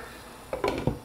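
A metal lid settles onto a cooking pot of split peas with pork, giving a few quick, close clinks and a short rattle.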